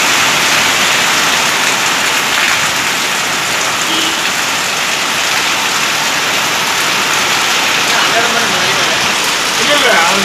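A summer rain shower in Karamadai falls as a loud, constant rush of rain on surfaces, steady and close throughout, with a faint engine-like rumble low underneath.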